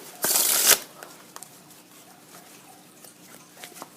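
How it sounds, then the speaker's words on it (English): A quick riffle of playing cards being shuffled, a crisp burst of flapping, followed by faint taps and handling sounds. "let's give the cards one more shuffle, so they're not in particular order."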